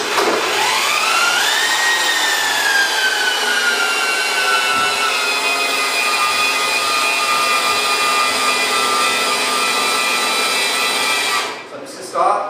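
A power drill drives the EZCarLift portable car lift, whining up in pitch and then holding a loud, steady motor tone for about ten seconds before winding down at the end.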